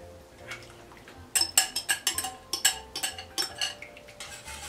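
A spoon scrapes and clinks steadily in a pot while pekmez is stirred with a flour and starch mixture for Turkish lokum with walnuts. The rhythmic metallic strokes are close and become busier after a soft start.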